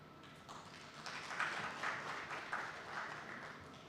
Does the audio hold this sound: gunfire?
no